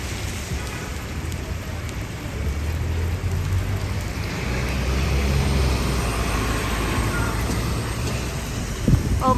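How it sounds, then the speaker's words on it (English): Rain and gusting wind fill a New York street around West 52nd Street and Fifth Avenue with a steady, broadband wash. Low rumbles of passing traffic run underneath throughout. "It's windy and it rains."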